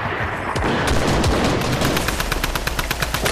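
Rapid bursts of rocket and gunfire in a red-versus-blue multiplayer game, loud and dense, with a fast stuttering rhythm of repeated shots that sharpens toward the end, no talk.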